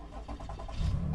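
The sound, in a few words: Toyota Highlander 2017 engine starting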